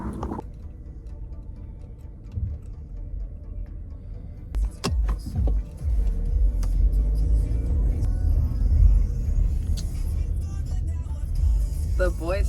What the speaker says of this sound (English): I'm so sick of this traffic.